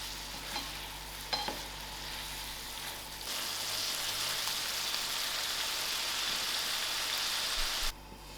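Lamb liver with masala sizzling steadily in a pan, a few utensil clinks at first, then a louder, dense continuous frying hiss that cuts off near the end.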